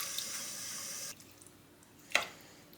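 Water from a kitchen tap runs in a steady stream for about a second while being added to chicken for cooking. It stops abruptly, leaving quiet room tone, then a short clatter or splash follows near the end.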